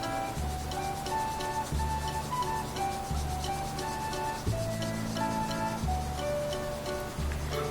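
A brown crayon rubs back and forth across paper in repeated short strokes while coloring a scarecrow craft, a soft scratchy texture under quiet background music.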